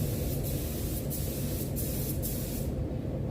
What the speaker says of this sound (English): We're going to go on with a heavy coat now, a nice wet coat